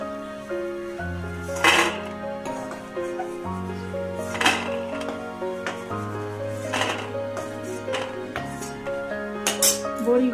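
Fried lentil dumplings are lifted from a pan for a vegetarian poppy-seed dish, with a few sharp metal utensil clinks against the pan over steady music.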